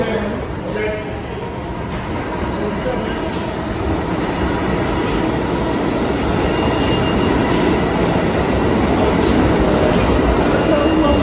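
A New York subway train rolling along with a steady, loud rumble and rattle that builds slightly over time, with faint talk mixed in.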